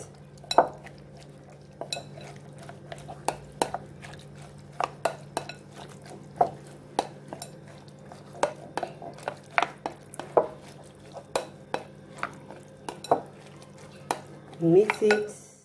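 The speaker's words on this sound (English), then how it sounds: "Put your rice, you mix." Rice being mixed in a pot for rice pudding, with repeated clinks and scrapes of a spoon against the pot in an uneven rhythm over a faint low hum, and a brief flurry of clattering at the end.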